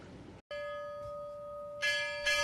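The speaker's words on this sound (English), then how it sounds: "The toll of a single bell" A single church bell strikes once at a Pearl Harbor remembrance and its clear tone hangs and rings on steadily, with brief brighter noise bursts near the end.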